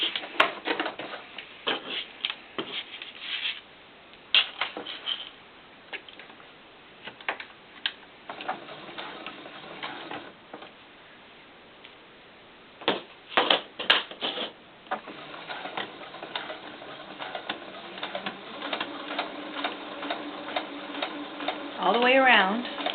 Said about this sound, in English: So now we're going to sew this.